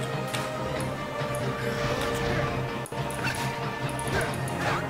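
Dog being struck in the game Metin2, with short yelping and impact sounds over a busy, continuous game soundscape of music and effects, one brief sharp hit standing out partway through.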